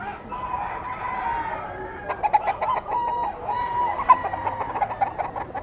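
Gilmore gamefowl stags at a market crow and cluck, several birds overlapping in short repeated calls at moderate distance over background murmur.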